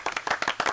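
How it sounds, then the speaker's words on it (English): Brief burst of applause in a radio talk-show studio, a handful of quick, close hand claps with a short uneven rhythm and no talking over them. "Round of applause for Lewis."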